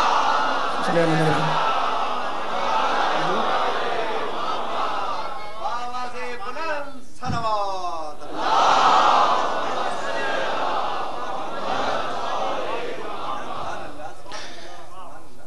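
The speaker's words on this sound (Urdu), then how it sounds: "سب مل کے بلند ترین صلوات بھیجے محمد والے محمد پر، سارے مل کے." A large gathering at a Shia majlis recites salawat on Muhammad and his family together, a loud, sustained mass of voices that rises in waves and swells near the end.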